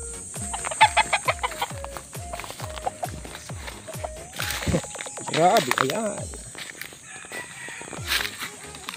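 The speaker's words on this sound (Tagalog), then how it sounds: "yung ating inahin na mayroong sisiw na akong nakita kanina" A mestizo mother hen with newly hatched chicks clucks in a steady run of low, evenly spaced clucks close by, followed by brief voices and other farmyard chatter.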